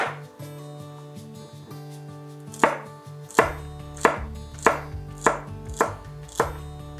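Celery stalks are chopped with a knife on a board, about seven crisp, evenly spaced thunks arriving after a quiet start, close and clear over a faint background tone with no talking.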